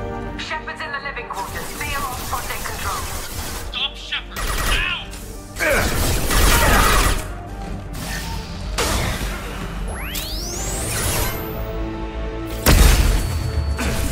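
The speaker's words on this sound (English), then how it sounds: "Fucking flashbangs." Flashbang blasts and combat crashes in Mass Effect 2 burst out in several loud, sharp hits with whooshing tails, scattered through a busy battle mix with a voice now and then.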